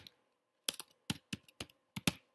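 Quick, separate keystrokes on a computer keyboard, about nine close, crisp clicks in short bursts with silent gaps between, no talking.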